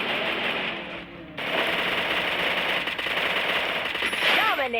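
Rapid P99 gunfire rattles in a Free Fire duo match, a dense continuous burst of shots with game sound effects, heard up close and loud throughout.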